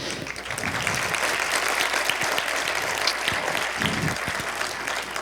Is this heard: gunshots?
no